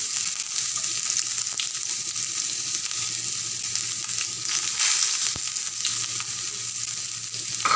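Small shallots frying in hot oil with mustard seeds, a steady close sizzle running unbroken throughout, with faint stirring scrapes and no talking.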